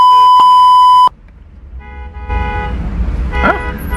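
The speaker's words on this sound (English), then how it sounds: "Lagos and traffic." Car horns honk in Lagos traffic: a loud sustained horn blast with a short toot inside it cuts off abruptly, then distant engines rumble and another horn sounds briefly amid the road noise.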